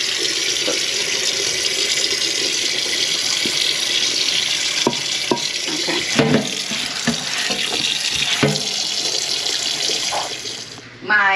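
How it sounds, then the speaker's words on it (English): Fresh tap water runs steadily into a pot, rinsing chunks of wild hog meat for a stew, with splashing and clinking of meat and pot as hands move it, loud and close, ending abruptly. "And I am going to rewash my meat with just fresh water."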